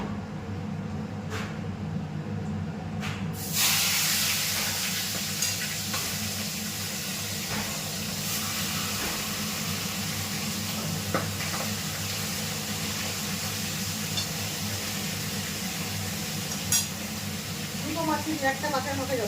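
Steady, close sizzling from a pan of hot oil holding fish heads as dal is poured in, a hissing, bubbling wash running throughout with faint clicks and a brief burst near the end.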